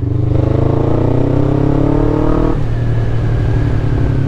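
A motorcycle engine revs hard up close, its pitch climbing steadily before dropping back to a lower steady drone as the rider changes gear.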